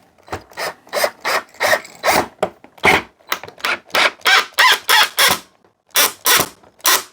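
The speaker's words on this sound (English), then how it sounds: "Come on, don't be jumping that screwdriver bit out." Repeated short rasping, grinding bursts of a screwdriver bit driving a screw into a Tipton Best Gun Vise 360, about a dozen close, loud pulses in an irregular rhythm with brief pauses between them.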